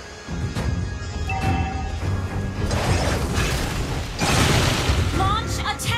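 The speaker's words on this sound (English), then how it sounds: "Your team destroyed a turret." Turret destruction in Mobile Legends (MLBB) gameplay: a busy mix of game sound effects with crashing booms and bursts, including a heavy crash near the end, layered over continuous in-game noise and an announcer-style voice.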